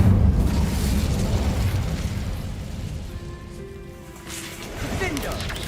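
Incendio fire spell in Hogwarts Legacy, a loud whooshing burst of flame with a rumbling boom that dies away, followed by a softer rising magical shimmer near the end.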